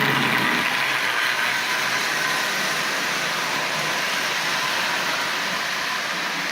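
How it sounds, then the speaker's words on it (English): Marx 588 toy train locomotive fitted with a Marx 400 motor, running at half power, gives a steady whirring motor hum with a bright high buzz, close and constant throughout with no talk. "this is the new 588 with the 400 motor"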